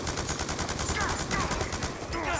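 Rapid automatic gunfire in Call of Duty Black Ops 2 on PS3, likely from an MK48 light machine gun, a dense, continuous rattle of shots with game effects layered over it, loud throughout the short burst.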